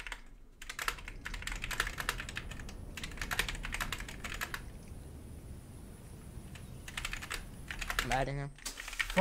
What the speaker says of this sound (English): It wouldn't let me finish typing my report.